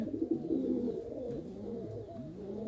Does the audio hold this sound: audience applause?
no